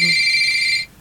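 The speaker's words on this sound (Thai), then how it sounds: "มันมีเสียงโทรศัพท์" A telephone rings with a bright electronic trill that holds steady for most of a second and then stops, leaving quiet room noise behind it.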